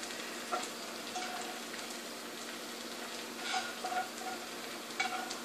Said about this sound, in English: I'm going to add in my shrimp without adding that extra little butter there